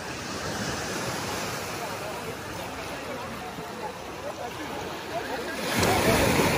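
Ocean surf on a beach in Phuket, Thailand: a steady, loud wash of breaking waves mixed with wind buffeting the microphone, with a heavier surge near the end.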